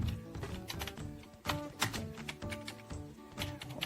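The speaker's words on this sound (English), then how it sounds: "So let me try to type something over here." Fingers typing on a Logitech MK275 wireless keyboard, a quick irregular run of soft, close plastic key clicks with brief pauses between bursts, no talking.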